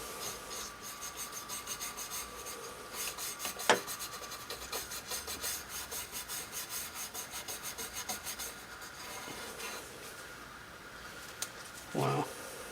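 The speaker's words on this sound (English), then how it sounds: "I'll try scrubbing it a little bit." Steady rhythmic scrubbing at white corrosion on a Cornell Dubilier BF-50 capacitor analyzer, close-up, with a few sharp knocks and a short burst of movement near the end.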